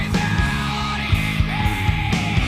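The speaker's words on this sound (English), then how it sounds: "Nice little guitar fills between his shrieks here." Heavy metal band playing, with lead guitar fills weaving between high shrieked vocals over a steady, dense rhythm section.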